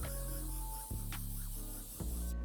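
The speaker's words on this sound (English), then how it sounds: "We're gonna spray it on the whole shoe completely even, about 2 to 3 coats" Mink oil hisses from a spray can onto a suede Air Jordan 1 Travis Scott sneaker in three short close bursts, each separated by a brief pause.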